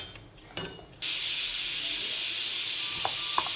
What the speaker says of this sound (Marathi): आता हे मिक्सरला छान आता बारीक करून घेते।